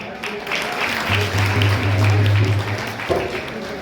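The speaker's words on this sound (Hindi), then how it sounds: "उनके लिए तालियां बजाएं सब लोग।" Audience applause at a social program in Bharatpur, a crowd clapping loudly and steadily at close range, with a low hum running underneath for part of it.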